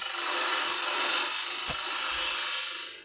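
Wood lathe turning a bead: a close, steady scraping hiss of the tool cutting the spinning wood runs for about three seconds, with one brief low thump in the middle, then fades out.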